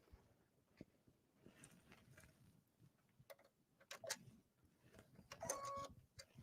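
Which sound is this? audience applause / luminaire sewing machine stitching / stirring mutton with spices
luminaire sewing machine stitching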